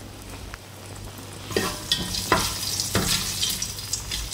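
Garlic frying in a pan for egg fried rice, a steady sizzle with stirring scrapes and a few sharp clatters from about halfway through, close and fairly loud, with no talking.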